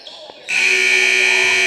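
A loud, sustained electronic buzzer sounds at the end of a period during a boys' basketball classic game, cutting in abruptly and holding steady over faint crowd and commentary voices.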